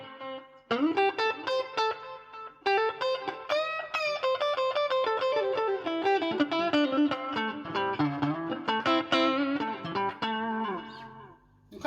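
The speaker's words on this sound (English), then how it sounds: "Put a little bit of delay into it, just because I like a little bit of delay on my signal." An electric guitar plays through a Harley Benton TUBE5 all-tube amplifier with reverb and delay, giving a steady stream of clean, ringing, sustained notes and chords that carry alone and close for most of the twelve seconds.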